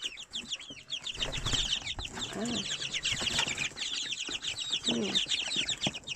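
A pet chicken named Johnny clucking near the microphone in a backyard shed garden, with busy chirpy bird calls throughout, some wing flapping, and a person talking softly in between.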